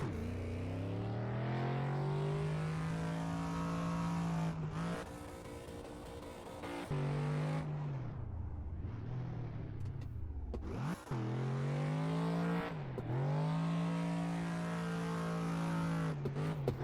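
A BMW M3 engine revving hard in the racing game Assetto Corsa, with sustained loud droning pulls, drops in pitch at gear changes or lifts, then climbing again over drifting tyre noise.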